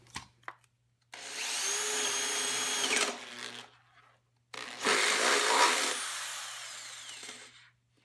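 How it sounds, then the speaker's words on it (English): A power drill bores a hole into the metal shell of a stock Chevy Camaro muffler, with two long, loud grinding runs separated by a short pause and a few clicks beforehand. "But first I'm going to have to drill a hole big enough to be able to get the head of this thing"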